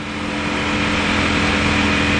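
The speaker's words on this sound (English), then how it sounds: "The bike sounds good." A Ducati Panigale V4 Speciale motorcycle engine running on a cool day, a steady, close idle drone with a constant hum and no revving, alone without talk.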